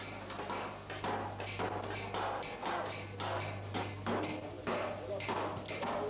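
Copper sheets are beaten with a hammer on an anvil in a Turkish coppersmith's workshop, giving a steady run of sharp metallic strikes over a constant low hum.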